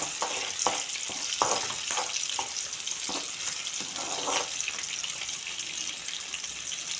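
Whole shallots fry in hot oil as a steady, close sizzle, with several sharp stirring scrapes and clinks over it.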